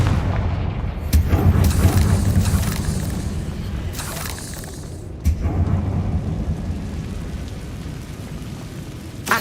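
Confringo spell explosions boom in Hogwarts Legacy, two or three deep blasts with rumbling tails over a steady low game ambience, one sharp crack about midway.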